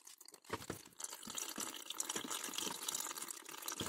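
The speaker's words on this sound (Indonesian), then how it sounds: "air sekarang mulai masuk" Water rushing into the drum of a Samsung front-loading digital inverter washing machine during filling, a steady broadband hiss and splash with a few sharp knocks at the start, continuous and close.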